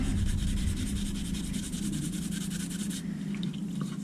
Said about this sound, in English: scrub this up nicely. Just get kind of like the surface rust off it.